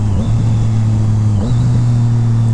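Triumph Street Triple 765 RS three-cylinder motorcycle engine blipped for a rev-matched downshift, a loud steady close drone that dips and then rises in pitch around the midpoint, with no talking.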